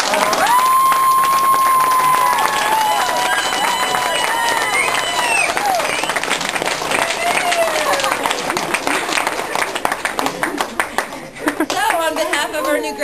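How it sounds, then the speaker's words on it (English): Applause and clapping from a graduation crowd fill the room steadily, with cheers and a few whistles rising over the continuous hand noise while a voice speaks over the top. "as she walks up here for a final round of applause"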